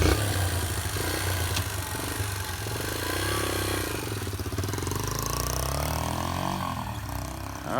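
A dirt bike engine revs hard as the rider pulls away, its buzzing note rising and falling with each throttle change and staying fairly loud throughout.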